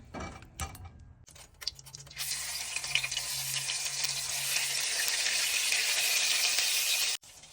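Hilsa fish frying in a pan of oil, starting with a few clatters and scrapes before a loud, steady hissing sizzle swells up and runs for several seconds, then cuts off abruptly.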